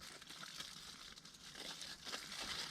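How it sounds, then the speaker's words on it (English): Tin foil torn down the middle at an outdoor campfire cooking spot, a faint, continuous crinkling and rustling rip that lasts a few seconds without speech. "I'm just going to split that tin foil down the middle there"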